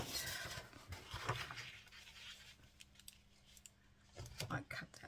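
Scissors snipping through paper while a handmade tall, skinny journal is assembled: a few close, crisp cuts and rustles scattered over about five seconds, with light handling noise between them and no talking.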